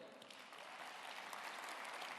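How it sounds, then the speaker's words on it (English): Steady applause from an audience, a continuous dense clatter of clapping that holds level for the whole stretch with no voices on top. "So a round of applause for Marcelo for coming all the way."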